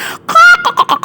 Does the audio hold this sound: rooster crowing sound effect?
yes